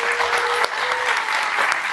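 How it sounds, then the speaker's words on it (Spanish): Lecture audience applauding a speaker at a diploma course session in Bolivia, loud close clapping from a room of listeners, continuous and even for the whole stretch. "Un aplauso, por favor."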